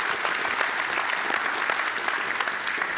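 Symposium audience applauding the speakers of a first session, a dense, steady wash of many hands clapping at close range for the whole stretch, with no voices over it.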